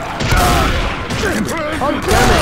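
Rapid gunfire in the zombie shooter Left 4 Dead: loud, dense bursts of shots and thumps run through the whole moment, with game voices speaking over the din.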